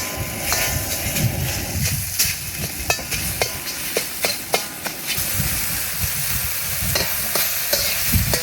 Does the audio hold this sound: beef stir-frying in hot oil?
yes